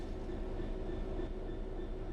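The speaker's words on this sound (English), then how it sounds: "Bring this train to a complete stop by holding the brake control in the apply state" Train braking to a stop in Train Sim World 4, a steady dense rumble and rolling rail noise with no let-up, heard on its own.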